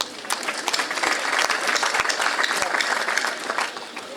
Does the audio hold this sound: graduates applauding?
yes